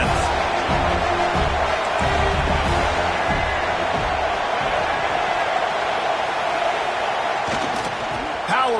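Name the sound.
football stadium crowd cheering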